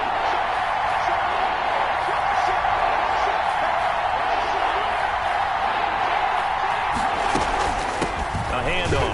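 Stadium crowd in an American football video game, a continuous loud roar of cheering that stays even throughout, with a commentator talking over it.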